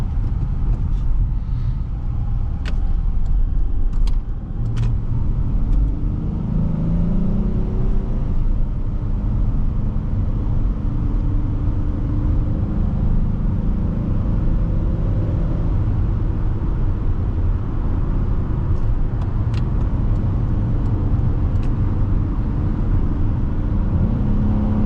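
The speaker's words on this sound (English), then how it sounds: "This Buick starts to move especially well when you put your foot down harder." Inside a 2005 Buick Rendezvous on the move, a steady engine and road rumble continues throughout with slight surges as the throttle is pressed harder.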